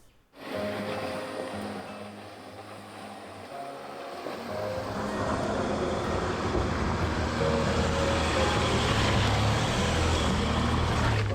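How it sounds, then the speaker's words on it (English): A four-wheel drive vehicle grinds slowly over a rocky bush track in the Blue Mountains, its engine droning steadily and growing louder, with crunching and rumbling underneath throughout. "When you're driving over rocky terrain like this, you really do want to think of your vehicle"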